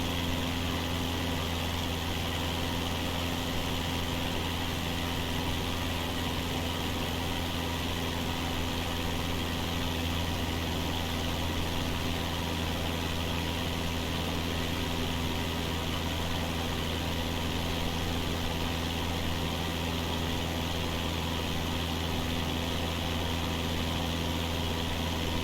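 A simulated aircraft engine in Microsoft Flight Simulator, throttled back, holds a steady, even drone with a deep low hum and a broad airy wash, running continuously at constant loudness with no voices.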